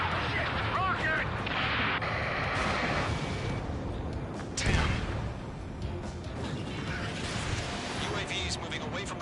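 Rocket blasts and artillery fire in a console shooter battle, a dense, continuous barrage of booms and crashes with one heavier blast near the middle, under steady game noise.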